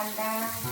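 Hot tempering of mustard, curry leaves, garlic and onion sizzles in a pan for a Konkani-style home dish, a brief, loud, close hiss.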